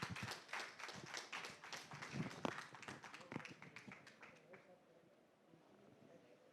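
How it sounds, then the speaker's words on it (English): An audience at a film teaser launch event claps for a speaker called onto the stage, fairly faint and dense clapping that thins out and fades toward the end. "Can we have a huge round of applause for him?"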